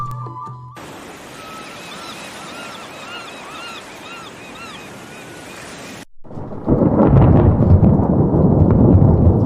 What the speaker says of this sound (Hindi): आज ही तूफान आना था।